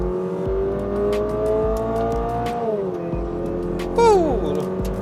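A Toyota GR86 with a 2.4-liter engine pulls hard out of a track turn, loud and close from inside the car, revs climbing steadily with a brief shift dip and a short tire squeal near the end.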